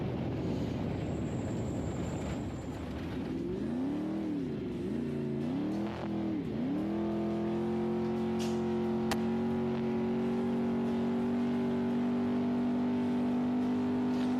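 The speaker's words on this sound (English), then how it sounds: "you can hear the engine bogging a little bit in that soft stuff" Off-road race vehicle engine in soft sand during the Vegas to Reno desert race: a loud, steady drone that dips and strains with wavering pitch, then settles into a sustained labouring hum, no talk over it.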